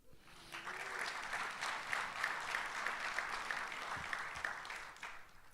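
An audience at an architecture talk breaks into steady applause, rising quickly, holding for several seconds, then tapering off, with no speech over it.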